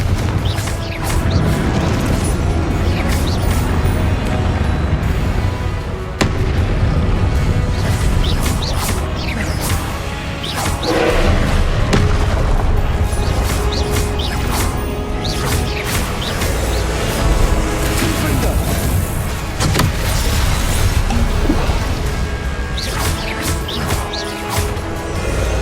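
In the Hogwarts Legacy video game, Confringo blasting spells set off repeated explosions: loud booms and crashes come one after another within a dense, continuous wash of game combat noise.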